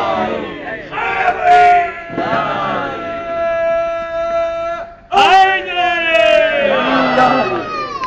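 Large gathering raising a religious chant: a lead voice calls out with sustained tones, then a loud crowd answers in unison, twice over, with a dip in the middle.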